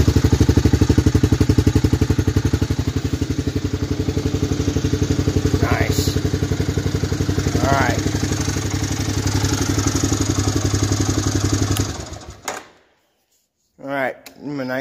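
A 1998 Craftsman LT 1000 lawn tractor engine, started cold and leaking fuel from its carburetor, runs with a loud, steady pulsing putter, then shuts off abruptly, followed by a brief voice.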